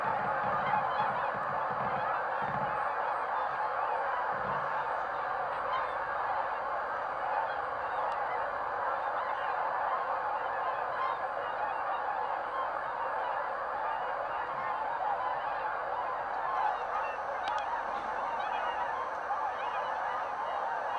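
A large flock of geese honks continuously in a North Idaho valley among swans and ducks, a dense chorus of overlapping calls filling the air from a distance, steady throughout.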